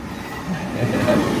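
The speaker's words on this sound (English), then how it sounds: "there's a train coming. It's going to get loud." A train passes nearby in Encinitas, a loud continuous rumble of rail cars and wheels that swells as it goes by, with faint squealing over the steady roar.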